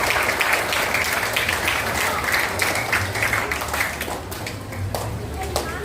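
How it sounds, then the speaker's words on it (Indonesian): A school audience applauds to open a math olympiad semifinal at a Catholic school, with loud, steady clapping filling the room and voices mixing in beneath it. "Kita berikan tepuk tangan untuk acara hari ini."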